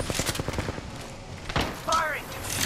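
Rapid gunfire in the video game Ballistic, a quick string of sharp shots at the start, then sparser bursts and game effects, with a voice talking over the action.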